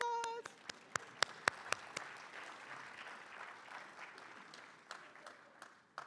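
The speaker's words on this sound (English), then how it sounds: "Give yourself a round of applause." A packed house of people at an evening Martin Luther King Jr. celebration applauds, with a few sharp nearby claps at the start that thin into a faint, diffuse wash of clapping and crowd noise.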